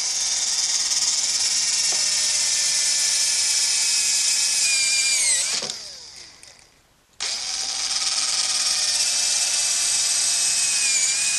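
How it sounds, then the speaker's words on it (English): A brad point bit drills a recess in wood on a workbench project. The power drill whines close and steady, cuts out briefly for about a second, then starts again and runs continuously. "So I'll do that by using a brad point bit and a chisel to remove"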